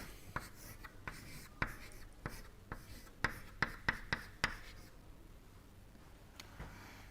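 Chalk or marker writing on a board during an engineering lecture, a series of sharp taps and scratchy strokes in irregular bursts, fairly close and alone with no talking, fading to quieter strokes near the end.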